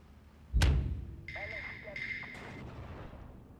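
Artillery fire in the WWII strategy game Steel Division 2, a single heavy booming blast near the start that decays into a rumble, followed by thinner whining battle tones.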